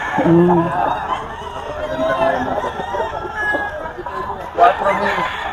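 At a Bocaue poultry market, a rooster crows and clucks close by under continuous chatter and talking.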